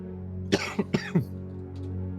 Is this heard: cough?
yes